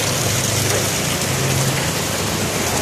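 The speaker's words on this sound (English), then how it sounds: "it's rain, it's dark and heavy rain" Heavy typhoon rain pours down in a steady, dense hiss, loud and close, with no voices and no letup.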